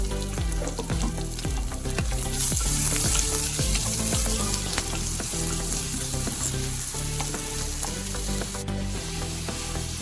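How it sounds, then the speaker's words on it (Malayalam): Grated shallots, garlic and ginger sauté in a hot pan, giving a steady, close, loud sizzle and frying crackle throughout, with occasional stirring scrapes and no talking. "ചെറിയ ഉള്ളി ഗ്രേറ്റ് ചെയ്ത് വെച്ച് നമുക്കിതിലേക്ക് ചേർത്ത് നന്നായിട്ട് വഴറ്റിയെടുക്കാം"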